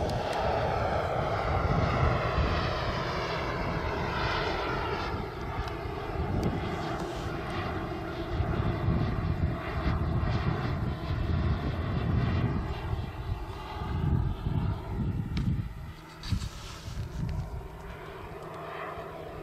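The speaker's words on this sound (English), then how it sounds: "Gear coming down now. Green to green. Landing." A Tuono NRG aircraft on its maiden flight comes in to land with its gear down, its engine droning loudly and steadily throughout with slowly shifting pitch, fairly near and unbroken by talk.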